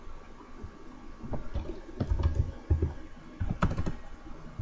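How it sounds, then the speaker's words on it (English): Typing on a computer keyboard, a few scattered key clicks followed by short bursts of faster keystrokes entering a name and number, close and fairly quiet with no talking. "Type in Bob 100"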